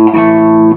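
Electric guitar played through a Tube Screamer distortion on a Pod HD500, giving a single loud, sustained distorted note that rings steadily, then stops abruptly.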